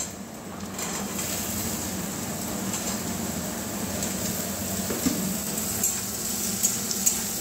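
Chopped potatoes and onion frying in a pan for a Bengali fish-head ridge gourd dish, being stirred with a steady, close sizzle and soft scraping throughout, with a few faint clinks near the end.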